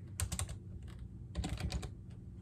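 Keys clatter on a computer keyboard in two quick bursts of typing, close and crisp, separated by a short pause, with a faint background hum.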